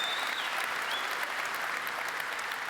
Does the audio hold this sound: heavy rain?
no